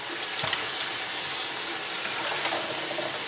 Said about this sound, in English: Then I rinse out my cloth.